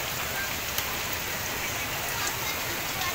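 Steady rain falls at a nature campsite in Lembah Kaliandra, Sentul, Bogor, a dense even hiss of drops with a few faint taps and no other sound standing out.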